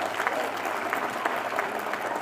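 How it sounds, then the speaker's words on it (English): An audience claps steadily for graduates at a student fashion show at The Art Institute of California, a continuous wash of applause with a few sharper claps standing out. "I think we should give them another round of applause."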